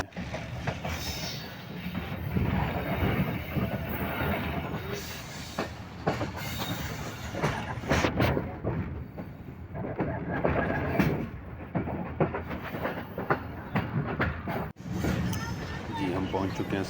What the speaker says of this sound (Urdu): یہ ملت ٹرین ہے، ملت ایکسپریس، جو کہ لالہ موسیٰ سے کراچی جاتی ہے۔